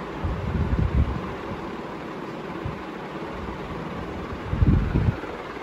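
Atomberg Renesa 1200 mm BLDC ceiling fan, a year old, running at boost speed: a steady broadband whoosh of moving air with low rumbling gusts, continuous and fairly close, with no voices.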